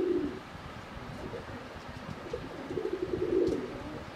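Pigeons in a loft of racing birds, including red checker pairs, coo in low repeated rumbles, building louder toward the end, with a faint chirp near the close and no talk.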